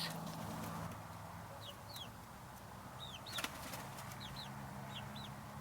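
Hens and young chicks in a backyard coop, several faint high cheeps and soft clucks scattered over a steady background hiss, distant and quiet, with no talking.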